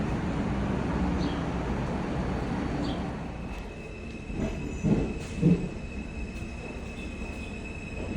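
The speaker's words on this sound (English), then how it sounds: "This is a Manhattan-bound D train." Manhattan-bound New York subway D train running, a steady rumble of wheels on rails with faint squeals and a few clunks and knocks, heard from inside the car.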